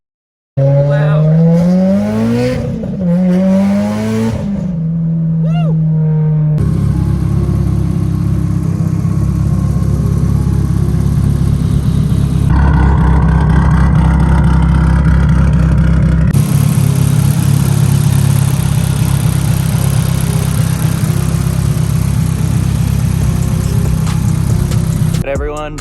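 A Mitsubishi Evo X with a big turbo kit revs in rising and falling bursts, then settles into a loud, steady idle close by, with abrupt shifts in tone as the engine holds its rumble throughout.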